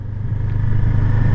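A Rieju Aventura 500 motorcycle engine, a 47-horsepower Spanish adventure bike, producing a steady, loud low rumble that holds nearly constant throughout.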